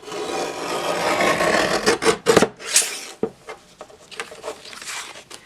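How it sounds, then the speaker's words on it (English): Scratchy rasping of a sharp blade dragging through thick cardstock, close and fairly loud, in uneven strokes with brief scrapes and pauses. "the blade is pretty sharp, and so it does make a lot of noise"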